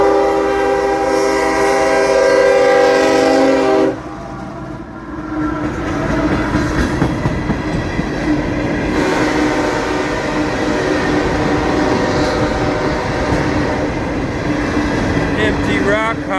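A cargo train of empty rock hoppers passes at close range in Folkston, Georgia. A loud multi-tone horn blast comes first, then a rumbling, clattering string of wagons rolls by, with voices talking faintly underneath.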